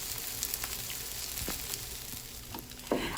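Pupusas sizzle steadily on a hot griddle, a dense continuous frying hiss with faint crackles and small pops, close and even in level without any talk.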